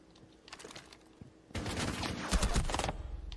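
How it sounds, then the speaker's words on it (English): Rapid bursts of video game gunfire erupt after a quieter stretch, dense overlapping shots crackling loudly and continuously through the second half, with scattered sharper reports standing out. "Watch out, they're shooting."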